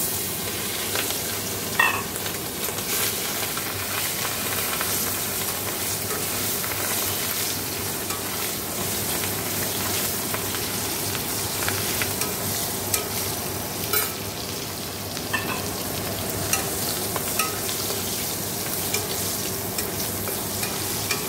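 Shrimp fry in hot oil in a wok, a dense, steady sizzle heard up close for a long stretch, broken by occasional spatula scrapes and clatters, with no one speaking.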